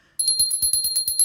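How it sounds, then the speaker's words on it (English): A host rings a hand bell at a virtual medium gallery event, giving a quick run of about ten bright, metallic strikes that ring out close and clear with no talking over them. "I'm going to ring my bell now."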